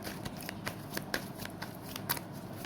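Tarot cards riffle and snap as they are shuffled and drawn, a quick run of crisp, close flicks and slaps with no voice over them.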